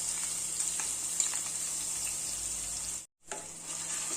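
Cumin, fenugreek and a ginger-chili paste fry in hot oil, giving a continuous close sizzle with faint crackles, briefly cutting out to silence before resuming.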